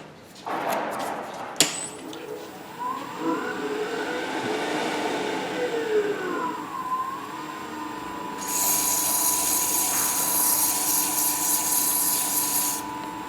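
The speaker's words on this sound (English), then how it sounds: "I was turning about as fast as the lathe would go." A steady mechanical whir and rubbing hum from a wood lathe turning a spinning top at high speed runs throughout, with a brighter high-pitched hiss joining in the second half.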